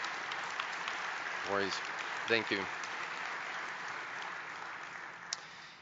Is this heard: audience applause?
yes